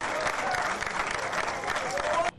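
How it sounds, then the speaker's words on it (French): A crowd at a diploma ceremony applauds and cheers with joyful shouts and some whistles, a dense continuous burst that cuts off abruptly at the end, with voices mixed into the noise. "des acclamations et cris de joie"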